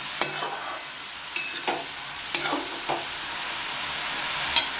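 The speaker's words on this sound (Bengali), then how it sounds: "খুলে আমি একবার আবার নাড়িয়ে নিচ্ছি ভালো করে।" A spatula stirs rui fish head and cabbage curry in a pan, giving about five distinct, well-spaced scraping strokes over a soft, steady sizzle, close and clear with no talking.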